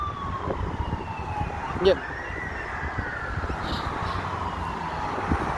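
An ambulance motorbike's siren wails as it passes through busy street noise, with a steady rising and falling tone and people talking nearby.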